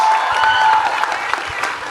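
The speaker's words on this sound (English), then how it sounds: "Can we have a rousing round of applause for the three wonderful women on stage?" An audience breaks into loud, dense applause for three women on stage at a talk event, continuous clapping with a faint murmur of cheering underneath.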